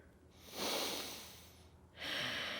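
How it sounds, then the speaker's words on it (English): Deep breaths in and out through the nose during a yoga strength hold, two slow, close, airy breaths heard alone with a short pause between them. "Continue to breathe in and out of your nose here."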